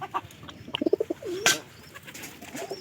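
A pet pigeon coos in a quick run of soft, throaty pulses, close and fairly quiet, with a brief sharp noise and faint household sounds around it.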